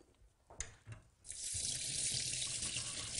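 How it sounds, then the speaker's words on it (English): Red lentils rinsed in a fine metal sieve under a cold running tap: a few clinks and splashes, then a steady, loud rush of water filling the sink, close with no talking. "Just rinse them under cold water."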